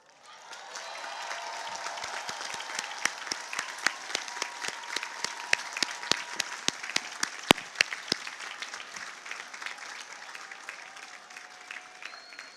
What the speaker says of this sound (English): will you please turn around and give your families and friends a hearty Lion round of